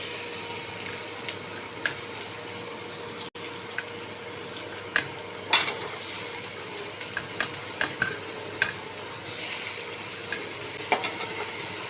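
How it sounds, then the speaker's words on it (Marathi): Chopped onion sizzles steadily in a pan of oil with garlic, with occasional clicks and scrapes of a spoon stirring through it, close and continuous. "आता आपण त्यात कांदा टाकून घेऊयात।"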